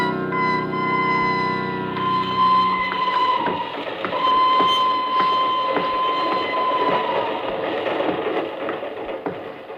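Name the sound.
train sound effect in radio drama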